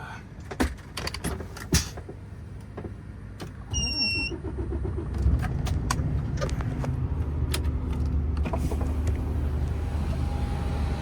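A long-haul truck pulls out of a yard. Door thumps and clicks come first, then a short electronic beep, then a low steady engine rumble as the truck rolls away.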